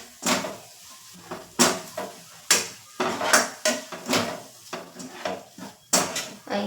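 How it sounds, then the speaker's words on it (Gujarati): Spoon scraping and clinking against a pan while spices, turmeric and salt are mixed in for a cheese paneer ghotala, a string of sharp metallic knocks and scrapes in an irregular rhythm, close and fairly loud. "બધું એડ કરી આપણે બરાબર મિક્સ કરી"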